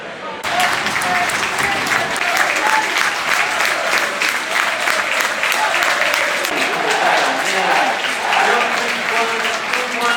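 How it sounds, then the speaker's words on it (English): A football crowd at a Notts County versus Cheltenham Town match applauds the team at full time, sustained loud clapping and cheering from a large stand, continuous from start to end. "there's no need to leave a minute early as they cheer the boys on for the performance"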